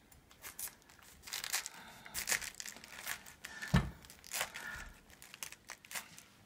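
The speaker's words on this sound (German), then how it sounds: "Ich schneide jetzt den Strunk raus" A knife cuts the firm stalk out of a head of cabbage for homemade sauerkraut, giving close, quiet crunching and crinkling leaf sounds in irregular bursts.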